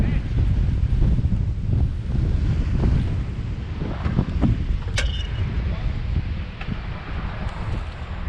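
Strong wind roars steadily across the microphone while a large silver fir is removed above a road, a loud, rough rushing noise that barely lets up, with faint voices underneath.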